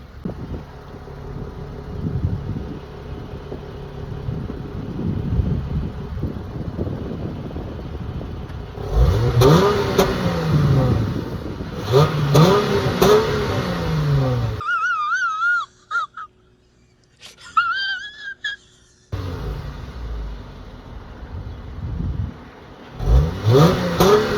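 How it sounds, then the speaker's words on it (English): A V6 car engine revs and roars through its exhaust in repeated bursts, with wind buffeting the microphone and a brief quieter lull midway. "this thing is a V6. Let's hear that exhaust"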